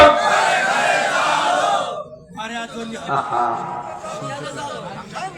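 A large crowd at an Islamic sermon shouts the takbir in unison, a loud collective chant that fades into scattered murmuring voices.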